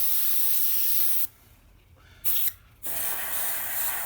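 Airbrush hissing steadily as it sprays paint, loud and close, with two short pauses where the air cuts off before resuming.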